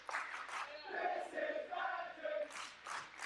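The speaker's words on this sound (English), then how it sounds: "The crowd showing their appreciation for both competitors and their heart here." A crowd at a women's wrestling match cheering and shouting in waves of mixed voices, rising and falling over a few seconds with some high yells.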